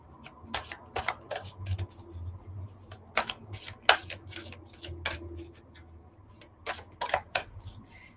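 Oracle cards being shuffled and riffled by hand, a run of quick crisp card snaps and flicks in uneven bursts, close and fairly quiet with no talking.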